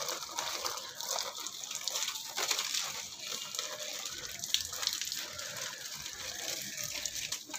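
Water pours and splashes over potted garden plants in a continuous, fairly soft gushing wash that runs throughout, with no speech.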